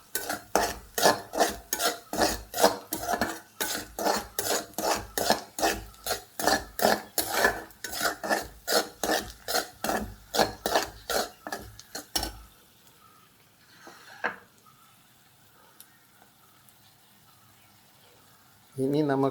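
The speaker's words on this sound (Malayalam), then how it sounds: "നല്ലപോലെ ഇളക്കുക." A spoon scrapes rhythmically around a pot of tiger prawn curry, a fast run of close, loud metallic strokes that stops abruptly, leaving quiet with a few small knocks.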